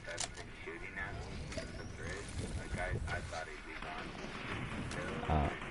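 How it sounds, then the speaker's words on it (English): Gunfire from a Fortnite arena solo match, dense repeated shots crackling under a busy game mix with continuous voice commentary over it. "He's still here shooting at me"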